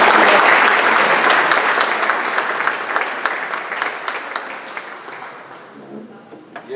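An audience at a church appreciation night gives loud, dense applause that starts strong and slowly thins out into scattered claps.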